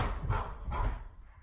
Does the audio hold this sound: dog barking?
yes